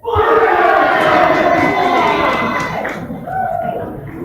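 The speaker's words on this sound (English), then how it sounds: "And there was a big cheer." Spectators at a darts singles tournament break into a loud burst of cheering and shouting that holds for a few seconds, then fades into a lower murmur with a brief second swell near the end.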